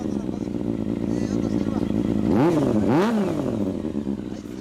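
A 2014 Kawasaki Ninja 250 with an Akrapovič exhaust idles loudly, then revs sharply twice in quick succession, its throaty exhaust rising and falling, with voices faintly underneath.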